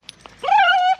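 A dog gives two tiny yips, then one clear, high whimper lasting about half a second, close and fairly loud against a quiet background.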